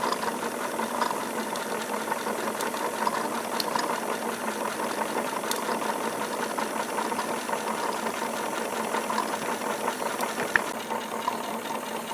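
A Wilesco D22 single-cylinder model steam engine running steadily, a continuous fast mechanical chugging and light rattling at close range, fairly even in level with no talk.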